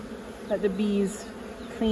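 Honey bees in a rural apiary buzzing around a messy, broken comb, with several droning, wavering tones passing close by, loud over a soft hum.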